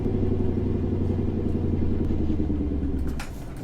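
Jake brake on a truck with a Cummins V903 engine in American Truck Simulator, a loud rapid pulsing engine-brake rattle with low rumble, steady for about three seconds before cutting off and dropping to a quieter idle.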